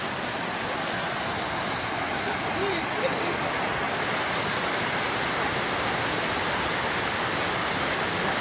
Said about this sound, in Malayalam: കണ്ടോ, ചെറിയൊരു വാട്ടർഫോൾ.